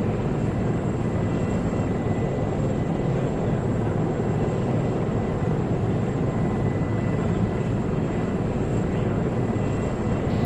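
Military helicopter in flight in the video game Arma, a steady, loud, continuous rotor and engine roar throughout with no clear speech.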